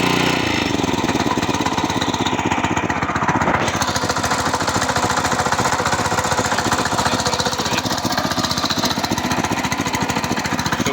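A repaired walk-behind tractor engine runs steadily after starting, a loud, close, continuous rapid chugging with a dense mechanical rattle and no pauses.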